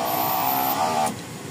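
A Honda FD (K30 engine) power window motor drives the glass down with a steady, close mechanical whir that runs for about a second before stopping with a brief click.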